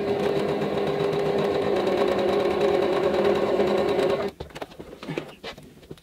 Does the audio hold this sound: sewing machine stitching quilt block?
yes